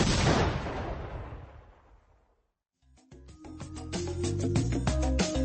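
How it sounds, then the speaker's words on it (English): A loud, booming blast that slowly decays into a fading rumble, followed by a brief silence and then a burst of dense, busy noise, used as an explosion sound effect in place of a vacuum switching on. "Love hearing that explosion."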